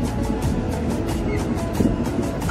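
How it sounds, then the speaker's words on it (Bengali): A passenger train moves slowly near Haldwani station on the Howrah–Kathgodam Bagh Express route, giving a steady, broadband rumble with faint rhythmic clatter that continues without a break and stays close and moderately loud. "ট্রেন খুব আস্তে আস্তে যাচ্ছে।"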